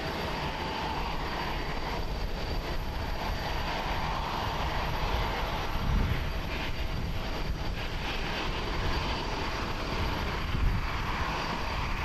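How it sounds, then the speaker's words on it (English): A ten-year-old Boeing 787-8 Dreamliner arriving on runway 22 at Haneda Airport in Tokyo produces a loud, steady jet engine roar from a distance, swelling slightly without any voices. "Gonna be arriving on runway 22 is On the Pond Airways, flight 642. Coming in from KMJ, a Boeing"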